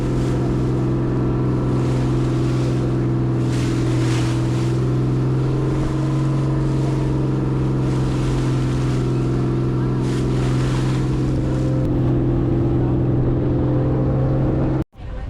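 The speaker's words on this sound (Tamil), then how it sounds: "இப்போ இந்த பீச் இந்த லாங் டெயில் போட் இதோட ரியல் சவுண்டை கொஞ்ச நேரம் கேளுங்களேன்." Long-tail boat engine droning at a beach in Krabi, Thailand, a loud steady low rumble with churning water and wind, continuous for about fifteen seconds before cutting off abruptly at the end.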